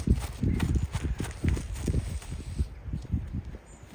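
Heavy hooves of a huge 850 kg horse clip-clopping in a steady walking rhythm, loud and close, with many dull thuds over ground and faint talk in the background.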